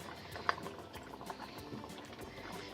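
Thai chicken vegetable soup with green onion boils in a pot, a steady close bubbling and simmering with one small clink early on and no talk.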